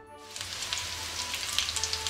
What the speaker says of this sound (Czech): nám se tady smaží řízečky